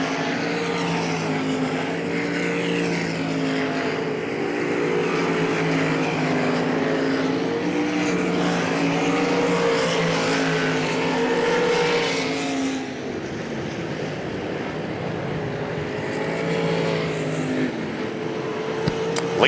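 IMCA RaceSaver sprint cars race around the half-mile dirt oval at Hagerstown Speedway, a continuous loud engine drone with steady harmonic tones, shifting pitch as the pack passes and fading slightly near the end.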